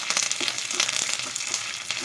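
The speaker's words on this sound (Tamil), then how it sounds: "கருவேப்பிலை சேர்த்து கருவேப்பிலையும் நல்லா வெடிக்கணும்." Curry leaves crackle and spit in hot oil with frying onions while tempering for urad dal sambar, a close continuous sizzle broken by quick irregular pops.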